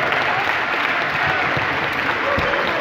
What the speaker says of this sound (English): huge round of applause for Danny McGuire from the United States